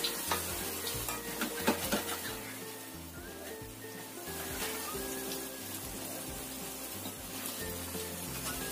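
Steady, dense sizzling of crackers and peanut brittle frying in hot oil, crackling continuously with occasional stirring clinks, close and even throughout.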